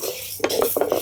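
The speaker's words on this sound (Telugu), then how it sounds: "ఇట్లా తిప్పుకుంటా వేయించుకోవాలండి." Dry toor dal roasting in a pan and being stirred, with a steady gritty rustle of lentils and several distinct clinks and scrapes of a metal spoon against the pan, close and fairly loud.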